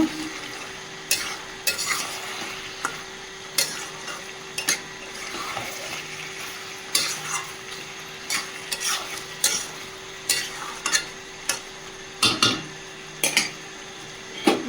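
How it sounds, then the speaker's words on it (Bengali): Chicken and fried potatoes stir-fried together in a pan, with a repeated scrape and clack of a spatula against the metal every second or so over a steady background sizzle, close and fairly loud, with no speech. "চিকেনটা বেশ কিছুক্ষণ কষিয়ে নিয়েছি, ভেজে রাখা আলুগুলো দিয়ে দেবো। দিয়ে আবারও কষিয়ে নেব।"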